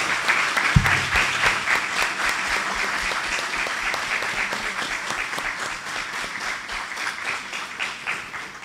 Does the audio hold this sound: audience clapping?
yes